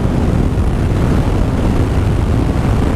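A steady, loud roar of wind and engine noise rushes past continuously while riding a Honda CBR motorcycle at about 100 km/h.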